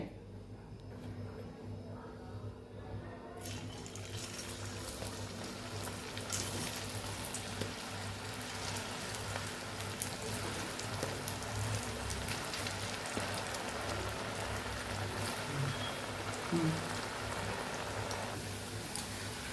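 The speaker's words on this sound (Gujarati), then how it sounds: "હવે આપણે એને તળી લેવાની છે" Cut french fries frying in hot oil, a dense, steady crackling hiss that jumps up in brightness after a few seconds and then carries on evenly, close and continuous.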